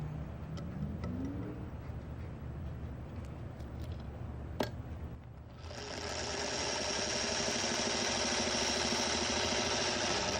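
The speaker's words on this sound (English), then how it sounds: "So take it to your machine, and we're just going to sew on the diagonal lines." A sewing machine starts up midway and runs steadily, stitching diagonal lines across quilt blocks, a close, even mechanical whir after some quiet handling sounds.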